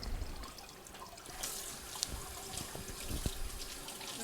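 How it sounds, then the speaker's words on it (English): Fresh rosemary and other herbs rinsed under a running kitchen tap, the water streaming steadily and splashing softly in the sink at low volume, with no one speaking. "Just give it a quick rinse."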